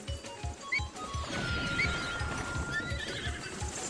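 A horse in the Zelda Breath of the Wild video game whinnies while its hooves clip-clop in a steady, fairly close rhythm throughout, with a faint crash partway through.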